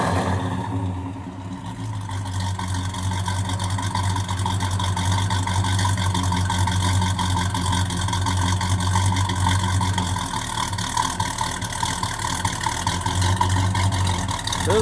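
A 1968 Pontiac GTO with a 400 four-barrel V8, dual exhaust and factory ram air exhaust manifolds idles steadily close by, its deep rumble loud and even for the whole stretch with no one talking.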